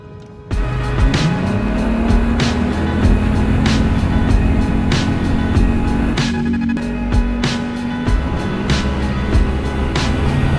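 Sealegs amphibious boat's motor running on the water, a loud, steady engine drone starting abruptly and holding close by, with regular rhythmic thumps as the hull moves.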